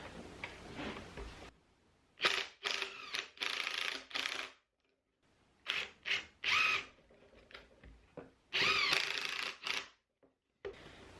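Power drill driving similar screws into the back panel of a battery storage French cleat shelf, heard as several close, loud bursts of whirring and clicking separated by short pauses.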